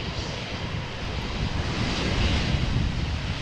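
A German Airways plane operating for KLM, arriving at Amsterdam Schiphol from Berlin, makes a steady, broad engine roar that swells slightly partway through and holds at a moderate distance, with no voices.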